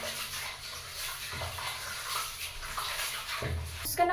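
Rice is washed by hand in a pot of water, soft sloshing and swirling with grains rubbing and a light clink of the pot near the end, fairly quiet and close.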